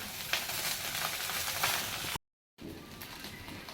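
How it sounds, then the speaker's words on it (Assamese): Cooked rice stirred in a hot frying pan, a continuous loud sizzle with scraping stirs, briefly cut to silence before the frying resumes. "ভাতখিনি দি ভালকৈ লৰাই দিব লাগিব, মিক্স কৰিব লাগিব ভালদৰে"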